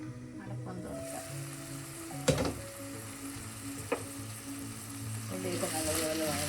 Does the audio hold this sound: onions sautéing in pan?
yes